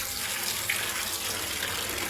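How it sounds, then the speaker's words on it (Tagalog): Water from a forest spring source trickles and splashes steadily into a container, a continuous hissing flow with no pauses, moderately quiet and close. "may tulo na siya mga guys"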